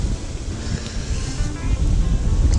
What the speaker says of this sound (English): I wish this wind didn't start blowing like it did.